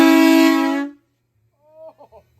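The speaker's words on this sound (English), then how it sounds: "That's a train horn." A train horn gives one loud, sustained blast lasting about a second and then cuts off, followed by a short spoken exclamation.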